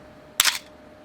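A single camera shutter firing at a fast 1/500th-second speed: one crisp, close mechanical snap lasting a fraction of a second, then quiet.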